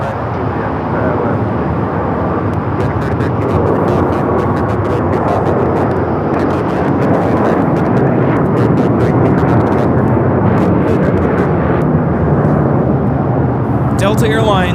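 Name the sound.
Delta Airlines Airbus A350-900 taking off at LAX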